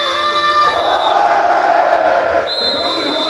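Crowd at a rugby jersey launch event cheering, a dense roar of many voices rising and swelling with whistle-like tones at the start and end, loud and continuous.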